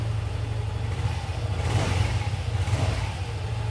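A nine-year-old motorcycle for sale runs with a steady low engine rumble that swells as it revs around the middle, close and continuous with no talk.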